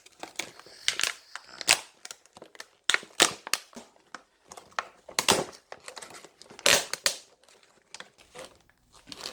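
A Ryobi 4V two-speed electric screwdriver is lifted out of its retail box, and the plastic and cardboard packaging crinkles and crackles in irregular bursts. The crisp rustles are close and separated by short pauses.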